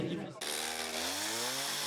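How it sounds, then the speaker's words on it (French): Chainsaw worked by a woodcutter carving contest trophies outdoors at a fondue championship, starting abruptly and then holding a loud, steady, buzzing drone as the engine revs and its pitch slowly climbs. "dehors, un bûcheron joue de la tronçonneuse pour sculpter les trophées du concours"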